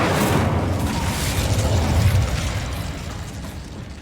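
A Bombarda spell blasts in the Hogwarts Legacy game, a dense, rumbling explosion that fills the whole stretch at close range and slowly fades toward the end.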